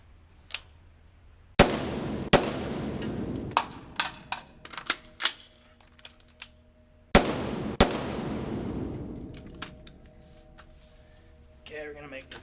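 Rifle shots ring out during a dot torture drill at a range, several sharp, loud cracks spaced irregularly with echoing decay, some quieter clicks and handling noises between, and a voice speaking at times.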